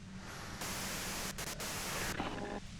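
Radio white noise static in the game Disco Elysium, a dense hiss that swells in loudly and holds steady with a couple of brief dropouts, no voices over it.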